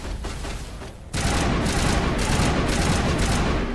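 Sniper fire in the video game Mass Effect, a loud dense barrage of gunshots and booms that suddenly swells after a quieter rumbling stretch and then rolls on continuously.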